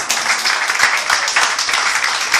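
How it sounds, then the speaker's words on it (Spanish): A church congregation at a Sunday service claps together as an offering to the Lord, a loud, dense wash of applause with a rough rhythmic pulse running steadily throughout. "ofrenda de palmas al Señor"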